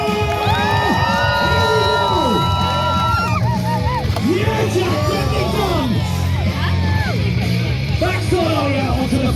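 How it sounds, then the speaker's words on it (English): Loud crowd at a national skateboarding championship in Great Britain, screaming, whooping and cheering continuously for about nine seconds, with high shrieks rising over a dense roar and voices shouting throughout. "Let me hear you scream for Jack Harper!"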